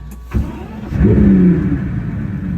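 A Pagani Utopia hypercar engine starts close by with a cranking burst, then catches and rises into a loud rev before settling to a steady, rumbling idle.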